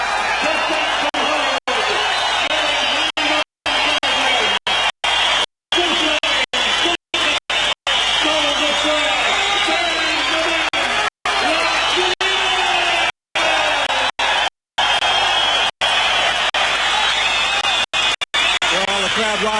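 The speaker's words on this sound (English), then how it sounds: "crowd rising here at the Sports and Entertainment Centre" Boxing arena crowd at the Sports and Entertainment Centre in Melbourne before a heavyweight fight, a packed house roaring and cheering in a steady wash of noise, broken by brief dropouts, with an announcer's voice over the top.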